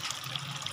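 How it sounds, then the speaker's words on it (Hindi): Water poured into a pan of soya bean masala, a short, steady liquid splash and trickle heard alone at moderate level. "उसके अंदर ये मसाला, इसके अंदर पानी डाल के इसे भी डाल देंगे हम।"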